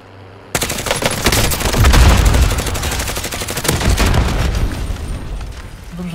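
Gunfire in the video game Call of Duty Modern Warfare bursts in suddenly and loud, rapid automatic shots and heavy booming blasts blending into a dense, sustained barrage that roars for several seconds.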